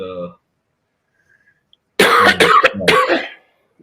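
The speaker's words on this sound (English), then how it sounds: "That Blackberry brandy will solve that cough real fast." A brief voice at the start, then silence, followed by a burst of harsh, close coughing and throat clearing.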